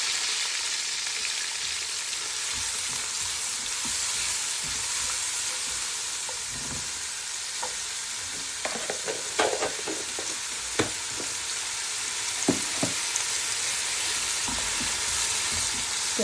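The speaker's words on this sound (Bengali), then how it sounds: "একটু পেঁয়াজটা ভেজে নিব, যাতে কাঁচা গন্ধটা যাওয়ার আগ পর্যন্ত আমি ভেজে নিব।" Onions frying in a pan for a home lunch: a steady broadband sizzle runs throughout, with scattered sharp pops and crackles of spattering oil, close and continuous, with no talking.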